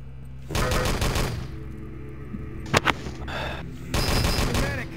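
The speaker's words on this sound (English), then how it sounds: "Nice shooting." Gunfire bursts in a shooting game: a rapid volley near the start, two sharp close shots in the middle, then another burst at the end, with quiet gaps between.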